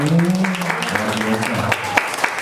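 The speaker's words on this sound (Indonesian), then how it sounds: "Tepuk tangan" Brief applause at a Christian wedding ceremony breaks out for the groom, a short burst of clapping mixed with voices and a low humming tone beneath it.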